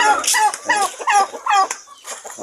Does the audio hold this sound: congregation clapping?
no